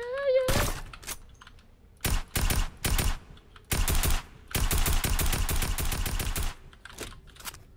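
Video game gunfire in loud, rapid bursts of shots, separated by short quiet gaps, with one long sustained volley near the end.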